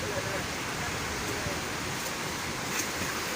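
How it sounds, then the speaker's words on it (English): The Kaveri river at Hogenakkal rushes in a broad, constant roar of flowing water, dense and unbroken, with a hint of wind against the microphone. "This is a Kaveri river flowing from Karnataka to Tamil Nadu"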